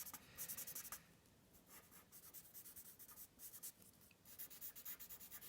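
A paper tortillon drawn across charcoal on paper makes steady, close scratchy rubbing strokes in a quick repeating rhythm, soft but continuous with no talking.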